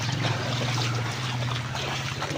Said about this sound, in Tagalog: Palakas o. Malakas na agos.